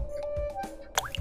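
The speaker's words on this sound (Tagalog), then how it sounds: "Habang dumarami na ang maliliit na batong hinuhulog niya, ay tuluyan na ngang tumaas ang tubig sa garapon." Small stones drop into a jar of water, giving a few quick, faint plinks and plops close by, with no voices.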